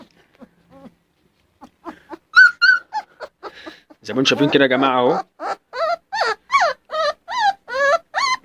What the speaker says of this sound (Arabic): جرو عمره 15 يوم زي ما انتم شايفين كده يا جماعه اهو.